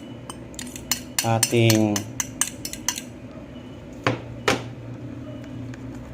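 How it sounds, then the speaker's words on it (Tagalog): Onion and garlic being stirred in a pan while cooking chicken burger steak: a few metallic scrapes and clinks of a utensil against cookware, with a brief clatter and soft kitchen background. "Tapos nyan, medyo haluin mo ng konti."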